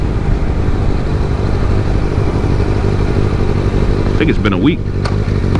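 A Kawasaki ZX6R motorcycle engine runs steadily and close by, a constant low rumble throughout, with someone talking over it and brief higher squeaks near the end.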